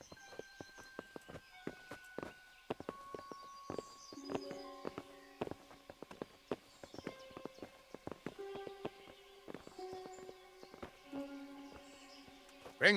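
Horse hooves clip-clop in the medieval video game Kingdom Come: Deliverance, a steady run of sharp clops moving alongside music with held tones and scattered bird-like chirps.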